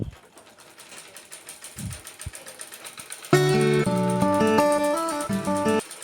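A sewing machine runs in steady buzzing bursts, stitching leftover fabric into scrunchies, starting faintly and then growing louder and continuous for the last few seconds with no talk.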